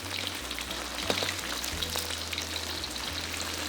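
Fish slices fry in small batches in hot oil, giving a steady, dense crackling sizzle like light rain, even and continuous throughout with occasional faint clinks.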